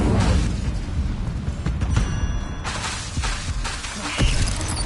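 In the Hogwarts Legacy game, a fiery Incendio spell erupts with a loud whooshing blast and crackling mechanical rumble, dense and close, followed by further bursts of magical combat noise.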